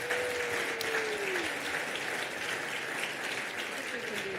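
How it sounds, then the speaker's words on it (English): Audience applause at a school auction after a lot is sold, a steady, dense wash of clapping from a crowd that holds evenly for several seconds. A faint tone glides downward beneath it. "Give them a big round of applause."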